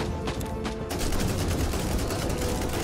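An Assault Gunner's weapon in Warhammer 40,000: Inquisitor firing rapid bursts, a dense, loud stream of gunfire that sets in sharply after a brief quieter start and keeps going steadily.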